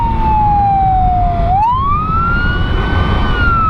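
A Honda ST1300PA police motorcycle's siren wails loud and close, its pitch sweeping slowly down then rising back up over a rumbling engine-like low background.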